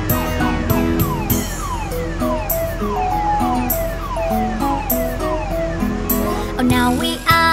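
Police car siren in a children's nursery-rhyme cartoon, a continuous wailing tone sweeping up and down, loud and steady over music for the whole stretch.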